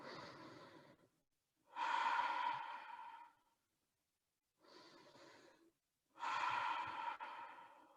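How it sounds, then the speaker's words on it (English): Slow, deep breaths taken during a yoga pose, with two paired inhale-exhale cycles separated by short silences, close and breathy. "Just deep breathing."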